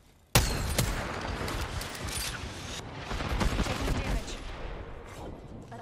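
Gunfire in the video game Apex Legends breaks out suddenly with a sharp shot, then rapid overlapping bursts of weapon fire and impacts continue densely throughout at close range.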